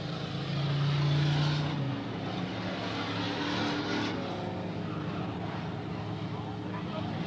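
Pure stock race cars circle a dirt oval, engines droning as a broad, rumbling wash from mid-distance, with one steadier tone briefly standing out early before the noise settles into a continuous roar; a commentator's voice runs over it.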